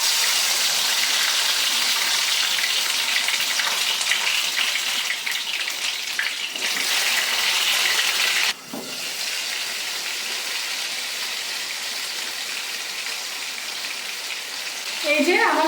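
Stuffed bottle gourd leaves filled with shrimp fry in hot oil, giving a loud, dense, continuous hiss and crackle close up, with a brief dip partway through.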